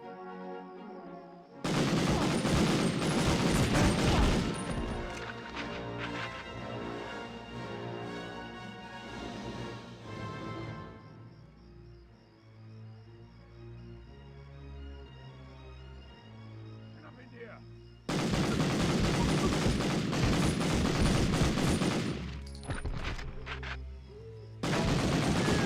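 Grenade blasts and rapid gunfire in the 1999 video game Medal of Honor, loud dense bursts of shots and explosions in two long volleys separated by a quieter stretch of music, with someone talking over it.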